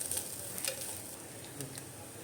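Onions fry and sizzle in a pan for moru curry while being stirred, a constant crackling hiss with light scraping and ticking taps.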